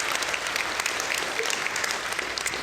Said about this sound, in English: You should give yourself a round of applause.